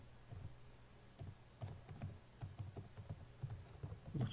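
Quiet, close typing on a computer keyboard while writing JavaScript code, a steady, irregular patter of soft key clicks for several seconds with no talking.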